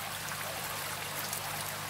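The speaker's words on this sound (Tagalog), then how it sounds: "Ang ganda pakinggan ang mga tubig" Water from a decorative home fountain trickles and splashes in a steady, even hiss, close and fairly quiet, with no talking over it.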